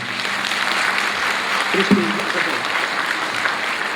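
Applause blends with a handmade Ukrainian matchstick instrument being played on stage, a steady wash of clapping throughout with a brief tonal note from the instrument partway through.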